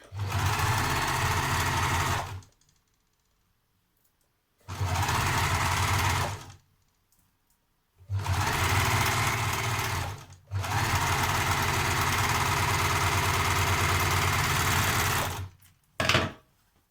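Overlocker sewing machine stitching fabric in four separate runs, each a steady, close, loud whirring hum that starts and stops abruptly, the longest lasting about five seconds, followed by a brief final burst.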